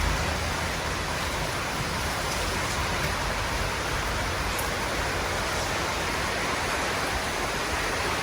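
Heavy rain in Thailand pours in a dense, unbroken roar, loud and close with no voices.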